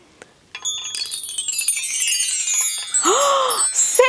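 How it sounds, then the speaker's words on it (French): Chime ringing in a children's morning segment: a sparkling cascade of bright, bell-like tinkles that ring on and overlap, followed near the end by a swooping tone. "Oh, c'est un carillon!"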